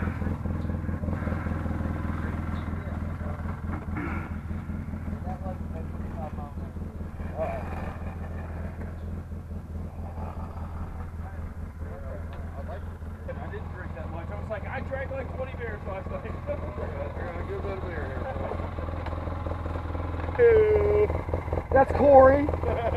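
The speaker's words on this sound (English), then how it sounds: "I'll be the only one on an ATV today. Everybody else is on a UTV," An ATV engine drones steadily at a low, even pitch while riding off-road near Buckhannon with UTVs nearby, the rumble continuous and fairly close, with people talking over it and a louder surge near the end.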